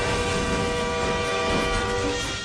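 A 6,000-ton freight train at a railroad crossing makes a loud, sustained rumble with steady tonal whine layered over it, close and constant throughout.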